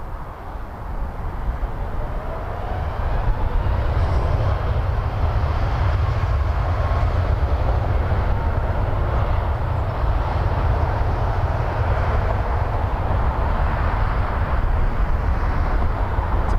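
A Boeing 777 at Toronto Pearson airport gives off a steady, heavy low rumble that stays loud and constant throughout, with broadband roar across the range and no talking.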